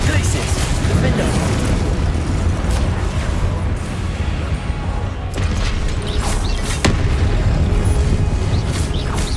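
Fiery blasting-spell explosions in Hogwarts Legacy booming through continuous combat noise, with several sharp bursts near the middle and end, loud and close over dense game sound.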